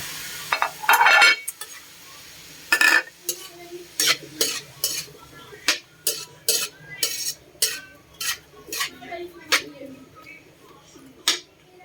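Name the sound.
adding and stirring tomatoes into cooking tilapia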